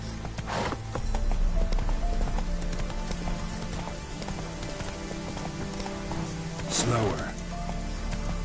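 Horse hooves clip-clop in a Gwent video game, a steady rhythmic trot running through the whole stretch at a moderate, near level, with brief bursts of other game sounds mixed in.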